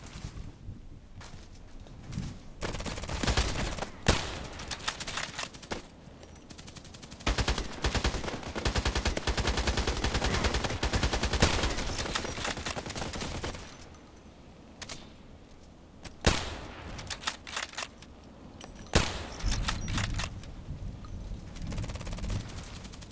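Game gunfire during sniper training rings out as a mix of sharp single shots and longer rapid bursts, loud and close, separated by quieter stretches with no talking.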